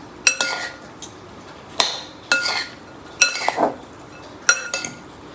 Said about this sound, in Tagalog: So, haluin natin.